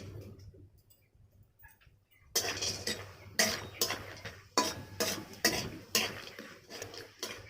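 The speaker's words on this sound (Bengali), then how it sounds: "বড়িগুলো ভেজে নেব।" Bengali lentil dumplings (bori) fried in hot oil in a karahi, heard as a quiet start followed by repeated scraping and clinking strokes of a utensil in the pan, close and moderately loud, with no voices.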